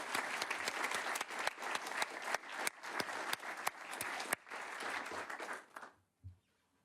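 A crowd at a COVID-19 remembrance event in Elmhurst applauds Mayor Eric Adams: a steady roar of clapping with a few sharp claps, fading out near the end.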